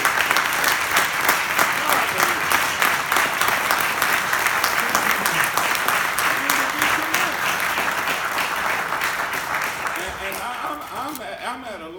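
Steady applause from a large crowd at a press conference fills the whole stretch, dense and sustained, with a voice emerging faintly near the end.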